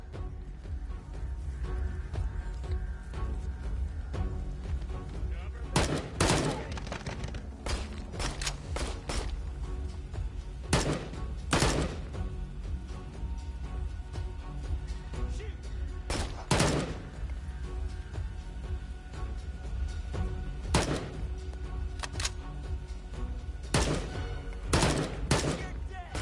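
Gunshots fired in Immortal Legacy: The Jade Cipher, a PSVR shooter, sharp cracks coming singly and in short bursts over a steady low background rumble, with occasional talking.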